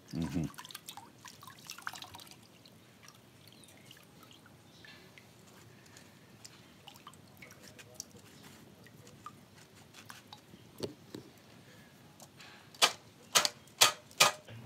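Coconut husk fire crackling beneath a cooking pot for Grenadian pea soup, a faint irregular stream of small pops and ticks with a quick burst of louder snaps near the end, a voice speaking at times.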